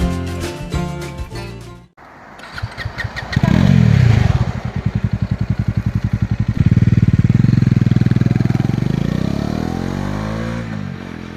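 A motorcycle on a first long bike tour to Mandarmani starts up after a short pause, then rides off with a loud, close, throbbing engine that rises as it accelerates and holds a steady drone, with some rattle.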